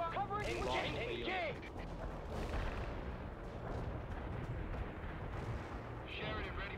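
Heavy artillery barrage in the game World in Conflict, a dense continuous roar of booming impacts and rumbling explosions, with radio-style voices speaking over the start and end.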